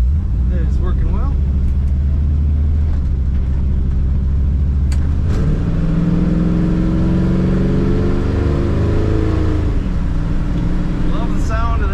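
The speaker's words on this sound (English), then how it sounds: "Love the sound of that V8." A 1961 Chevrolet Bel Air V8 with a B&M-shifted automatic runs at a steady idle, giving a deep, continuous low rumble close by while someone talks over it.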